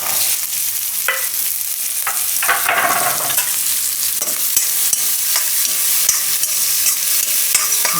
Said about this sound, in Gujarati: હવે એમાં આ શાકભાજી આપણે ફણસી, ગાજર, કેપ્સિકમ, અને